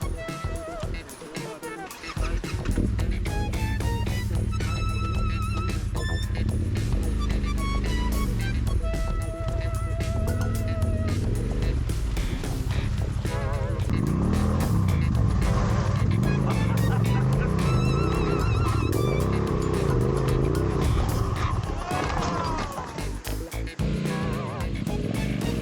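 An adventure motorcycle crosses rough terrain, its engine droning loud and steady for nearly the whole stretch, rising and settling as the rider works across the ground.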